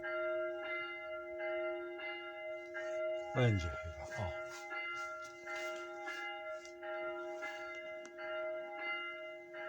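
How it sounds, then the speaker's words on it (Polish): Church bells ring steadily in the distance with a sustained, humming resonance, heard outdoors beside a church during a motorcycle trip; someone speaks briefly midway through. "Fajnie mi dzwony biją."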